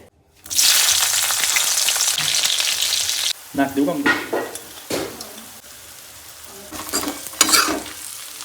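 Chopped onion, green chili and red tomato hit hot oil in a pan with a loud, sustained sizzle that fades after a few seconds. Bursts of stirring and scraping follow, with a few brief spoken words.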